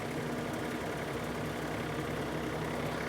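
A steady, loud tractor engine drones at a constant idle-like pitch throughout while pulling a fertilizer spreader, with a low rumble and faint mechanical knocking, no voices.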